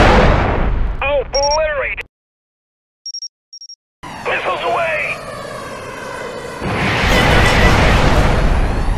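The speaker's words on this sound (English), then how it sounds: "Missiles away! Boom, catch!" Missiles launch and explode in the Kick the Buddy mobile game: loud cartoonish whooshes and booming blasts that build into a long roaring rumble, mixed with excited talk and short electronic beeps.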